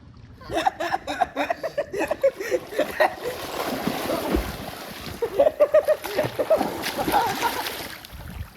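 Water splashes repeatedly in a swimming pool, in quick irregular bursts close by, mixed with voices and some laughter.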